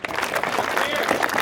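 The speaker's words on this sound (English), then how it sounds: "So give yourselves a round of applause" Applause from a gathering of the Arizona Muslim community at a fundraising event at a Pakistani house in Chandler, a short burst of dense clapping mixed with crowd noise.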